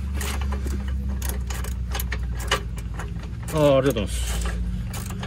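A ratchet wrench tightening a bolt while bump rubbers are installed on a new Suzuki Jimny JB64, giving rapid close mechanical clicking over a low hum as a person speaks briefly.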